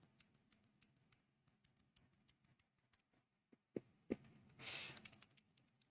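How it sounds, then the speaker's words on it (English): Clicky presses on the buttons of an 8BitDo C2 wired controller, a run of sharp, quiet taps spaced irregularly, close by, with a couple of louder clacks and a brief hiss near the end. "Listen to those buttons though."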